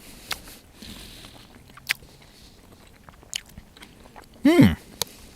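Close chewing of a Happy Yak freeze-dried pork meal, scattered soft crunches and mouth clicks with a short louder hum of appreciation near the end.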